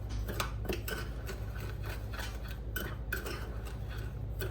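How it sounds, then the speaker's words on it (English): Cinnamon and sugar, three teaspoons of cinnamon with half a cup of sugar, stirred together in a bowl, giving a steady run of light ticking scrapes and taps, faint and close against a low hum. "we're just gonna stir that together"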